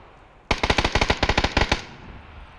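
Rapid machine gun fire in a video game, a burst of about fourteen evenly spaced, loud, close shots lasting just over a second, then quiet.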